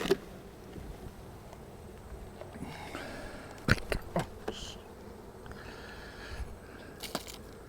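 Honeybees buzz faintly around an open backyard hive during a honey harvest, a low continuous hum with scattered close clicks, knocks and handling bumps.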